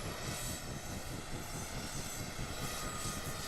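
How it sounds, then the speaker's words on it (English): Chinook tandem-rotor helicopter in Microsoft Flight Simulator 2024: a steady, continuous engine and rotor drone with a low rumbling throb, heard alone at a constant level. "What do you think of my Chinook?"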